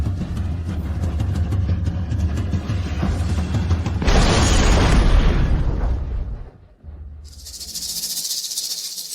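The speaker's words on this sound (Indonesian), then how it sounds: "Bahan peledaknya akan meledak," Explosives detonate in a dramatized scene: a sustained, loud roaring blast and rumble that swells, cuts off abruptly, then gives way to a quieter hissing tail.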